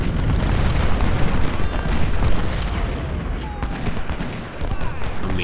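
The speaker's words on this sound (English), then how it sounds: "Another volley." A Civil War musket volley in Ultimate General: Civil War, with heavy massed rifle fire and booming cannon-like blasts rolling continuously over a loud battlefield din, with no clear gaps between shots.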